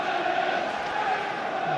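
Football crowd at the Hearts v Hibs Edinburgh derby at Tynecastle, a steady massed roar and chanting heard from afar beneath a commentator's voice.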